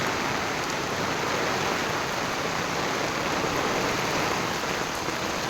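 Heavy monsoon downpour in Mahabaleshwar with water running along the road, a dense, steady roar of rain and flowing water that stays loud and unbroken throughout with no voices.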